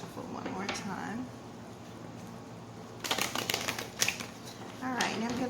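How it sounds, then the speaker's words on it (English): A deck of tarot cards is shuffled in several short bursts of riffling and slapping, close to the microphone, separated by quieter gaps, while a person talks softly in between. "I'm going to shuffle one more time."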